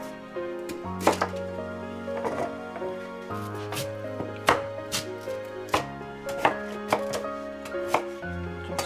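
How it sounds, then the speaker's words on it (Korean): A knife slices sweet potatoes diagonally on a cutting board, each cut landing as a sharp, close knock in an uneven rhythm of about a dozen strikes, with no talk. "비스듬한 모양으로 자유롭게 썰어주면 돼."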